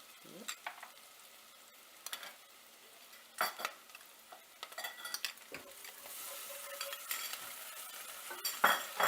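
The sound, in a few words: garlic paste added to a frying pan while cooking white sauce pasta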